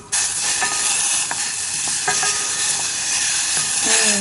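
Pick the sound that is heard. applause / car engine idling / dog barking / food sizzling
food sizzling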